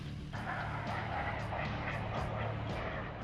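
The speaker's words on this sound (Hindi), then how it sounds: "ये है वो चिनूक हेलीकॉप्टर।" Chinook helicopter flying with a steady, rumbling rotor and engine drone, fairly distant, with rhythmic pulsing through the whole stretch and no speech over it.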